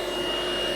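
A Ryobi RSV18 cordless vacuum cleaner with its brush spinning gives a steady, even motor whine and whir, close and continuous, with no speech over it.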